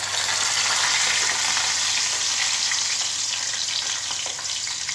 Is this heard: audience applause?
no